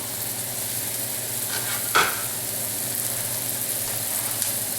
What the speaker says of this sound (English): Adding the onions and the garlic first.